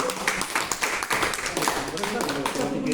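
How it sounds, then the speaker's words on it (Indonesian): A small audience of teachers claps during a school mentoring session, a dense run of hand claps lasting a few seconds, fairly close and steady, with voices talking over it. "Kita beri aplaus Bapak Ibu."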